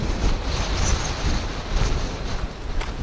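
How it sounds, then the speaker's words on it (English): Strong, relentless wind of about 20 mph with gusts roars steadily across the microphone on the Horseshoe Trail, a loud rushing buffet that swells and eases in waves with no voices. "This wind is relentless."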